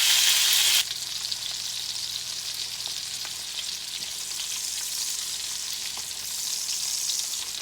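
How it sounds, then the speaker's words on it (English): Pork tenderloin sears in a hot pan with a steady, close crackling sizzle. It starts with a brief louder burst, then settles into an even hiss that swells slightly toward the end. "Now we're going to try to get some sear on the edges of them."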